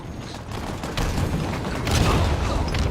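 Gunfire in Halo Infinite's multiplayer, a dense, continuous crackle of shots and mechanical clatter that swells louder midway and again near the end, with no voices over it.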